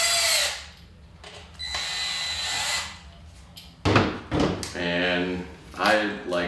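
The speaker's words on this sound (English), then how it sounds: "And then I tighten the screws all the way." Power screwdriver tightening screws while assembling a Cinestar 8 drone, several short whirring bursts close by, mixed with someone talking.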